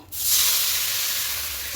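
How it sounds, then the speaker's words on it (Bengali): Hot water poured into a hot kadai full of spices for a vegetarian urad dal khichdi hisses sharply at once, then settles into a loud, steady steaming sizzle. "কড়াইতে অনেকটা মশলা আছে একটু গরম জল দেবো"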